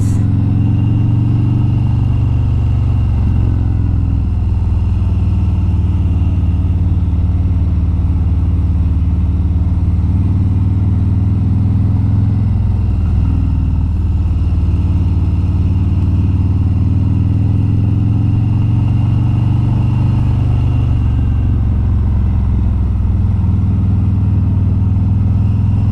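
A couple riding a Harley Davidson motorcycle on a road between Cairns and Atherton in Australia, with a deep, continuous engine rumble and wind noise throughout, steady and close with slight swells in revving.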